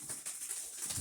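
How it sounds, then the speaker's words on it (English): Soft bird calls, cooing like pigeons or doves, repeat faintly in the distance over a quiet outdoor background. "Hear those birds."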